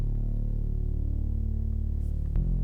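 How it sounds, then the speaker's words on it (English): A synthy, underwater-sounding synth bass in a chill dance beat, a sustained warm low tone with a muffled, filtered wobble, held steadily and loud, shifting to a new note near the end, alone without voices. "Now the first bass that I have is a more synthy underwater bass."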